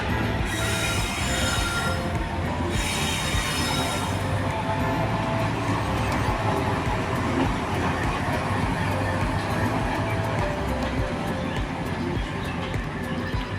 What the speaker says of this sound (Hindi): ट्रेन शंट की जा रही है